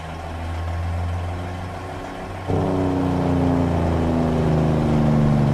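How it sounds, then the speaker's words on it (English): Bus engine in American Truck Simulator idling with a steady low drone, then stepping up into a louder, sustained rev that holds and rises slightly, close and alone. "that bus sounds really good"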